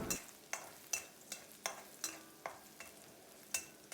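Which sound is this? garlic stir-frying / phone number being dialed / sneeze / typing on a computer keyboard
garlic stir-frying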